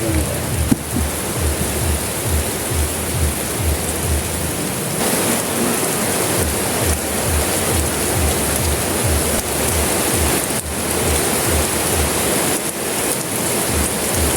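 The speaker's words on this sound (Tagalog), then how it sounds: "malakas yung buhos ng ulan" Heavy rain pours steadily in a dense, loud hiss that stays constant throughout, with no talking.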